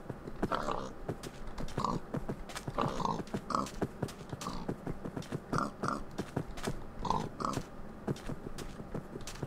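Pigs in the Minecraft video game grunting and oinking in short repeated snorts, several animals close together with a steady patter of footsteps underneath.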